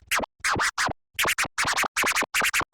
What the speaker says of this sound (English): So my military scratch sounds like this right now.